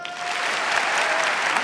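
A live comedy show audience claps hands in a dense, steady burst of applause, loud and close, sustained for the whole moment.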